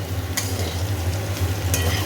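Potatoes with a little turmeric fry in a pan, a steady close sizzle with a low hum underneath and two sharp scraping stirs.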